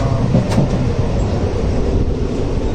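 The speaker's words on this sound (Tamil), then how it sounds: "ட்ரெயின் போய் கொண்டு இருக்கின்றோம்" Steady low rumble of a moving train, continuous and loud throughout, with a brief higher rattle near the start and no voices.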